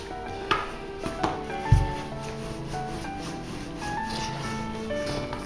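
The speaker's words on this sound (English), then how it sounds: "You need to press your dough out, start rolling out the dough." Pasta dough being rolled out by hand with a rolling pin on a floured kitchen surface: soft rubbing and scraping with a few sharp knocks near the start, steady and close, with no talk.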